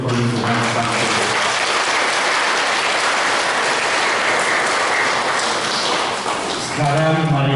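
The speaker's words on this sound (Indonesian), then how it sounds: "kita beri tepuk tangan untuk perlindungan Sang Tuhan" A church congregation at a parish anniversary Mass claps together in sustained, dense applause that holds steady for several seconds, loud and close, with no talk over it.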